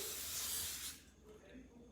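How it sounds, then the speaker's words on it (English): A short, fairly loud hiss of cooking oil or butter spray misted onto the bottom of a baking tray for dinner rolls, lasting about a second before fading into quieter room sound. "just going to spray oil or butter on the bottom very lightly"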